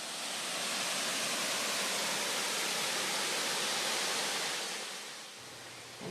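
Many Creek Falls waterfall at Paronella Park, a broad continuous roar of falling water, loud and steady before easing slightly near the end, with no talking.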